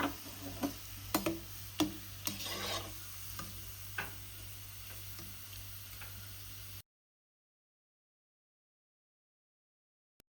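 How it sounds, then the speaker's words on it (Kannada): Raisins frying lightly in hot oil in a pan, with faint sizzle and sharp spoon clicks against the pan for several seconds before the sound cuts off abruptly into silence. "ದ್ರಾಕ್ಷಿನೂ ಕೂಡ ಇವಾಗ ಸ್ವಲ್ಪ ಫ್ರೈ ಮಾಡ್ಕೊಳ್ಳೋಣ."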